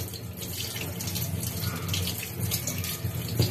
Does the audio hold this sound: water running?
yes